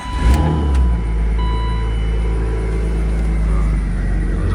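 A supercharged BMW M3 E36 with an RMS build that hasn't been started in a while cranks and catches, then settles into a loud, steady, rumbling idle, close by.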